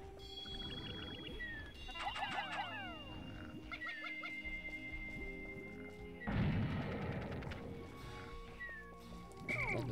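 Bomb rocks blasting a stronger wall in Pikmin, set in the Distant Spring area, give a sudden boom midway over a steady bed of game music and chiming effects.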